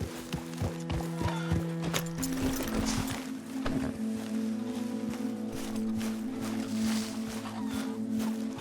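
Horse hooves clip-clop at a steady trotting rhythm in the video game Red Dead Redemption 2, loud and close, with tonal game music and ambient sounds running underneath.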